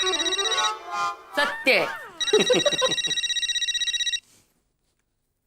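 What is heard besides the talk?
telephone ringing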